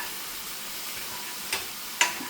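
Mushrooms cooking down in a hot pan give a steady soft sizzle, with two brief sharp ticks near the end, likely a utensil touching the pan.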